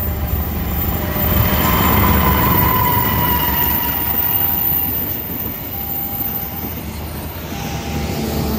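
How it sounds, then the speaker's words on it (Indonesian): Berantas passenger train hauled by a red locomotive passing the Kalijaya level crossing in Cikarang: a loud, continuous rumble of wheels and rail clatter rolling by close to the crossing, with no talk. "dari arah Jakarta nih, kereta api Berantas menggunakan lok merah nih."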